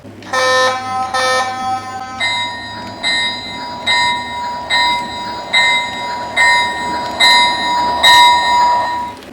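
A small TT or S scale model locomotive's sound-system bell rings in steady repeated dings, bright and close, following a few quicker tones at the start.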